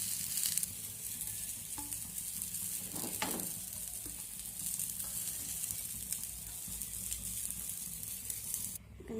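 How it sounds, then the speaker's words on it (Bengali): Brinjal slices fry in oil in a pan for an egg and brinjal dish, turned several times as they cook. A steady, moderate sizzle runs throughout, broken by a few spatula scrapes and stirring sounds. "এখানে আমি কয়েকবার উল্টে পাল্টে ভেজে নিয়েছি"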